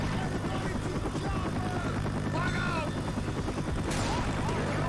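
The rotor of a helicopter in Left 4 Dead 2 thumps steadily throughout under a busy mix of gunfire and game noise, with a voice talking over it.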